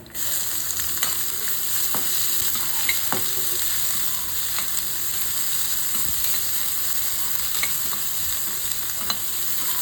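Onions and cashews frying in oil for kuli paniyaram, a steady sizzle with occasional scrapes and taps of a stirring spoon against the pan, close by and without voices.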